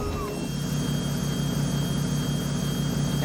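A custom truck engine in American Truck Simulator starts up after a brief whine and settles into a loud, steady low rumble and whir.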